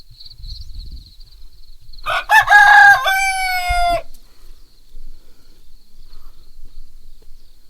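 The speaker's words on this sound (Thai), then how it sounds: "น้องไก่เราขันตั้งแต่ตีสามตีสี่เลยนะครับ" A rooster crows once, loud and drawn out, rising then holding before cutting off, with quiet low rumbling and a faint steady tone around it.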